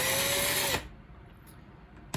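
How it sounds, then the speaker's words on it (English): A power drill whirs steadily in reverse, spinning a wire coil loose from its core wire during wire-wrapping work, then cuts off abruptly, leaving quiet room noise behind. "reverse my drill, let it spin maybe 5"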